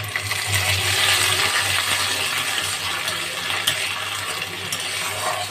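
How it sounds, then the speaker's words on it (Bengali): A small amount of spice paste frying in a little oil and being stirred while cooking biuli dal, a continuous close sizzle with faint scraping and clinks throughout. "একটু ভালো করে নেড়ে নিলাম।"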